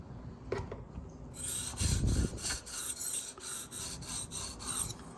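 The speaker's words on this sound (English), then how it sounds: "When you're grinding, you can feel on the stone what the material is" A Kershaw 8650 knife blade being reground on a sharpening stone, its bevel reset, making a steady rasping scrape in repeated back-and-forth strokes, close and fairly loud with no talking.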